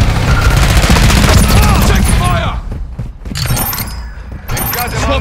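Rapid automatic gunfire and explosions from Call of Duty: Modern Warfare II, loud and dense at first with bursts continuing after a brief lull, mixed with shouted in-game voice callouts.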